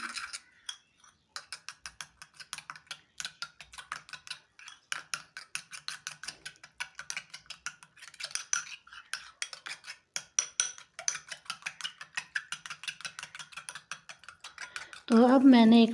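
A whisk or fork beating eggs with salt and red pepper in a bowl, a quick run of light clicking taps that pauses, then resumes in fast bursts, followed by a brief loud final sound.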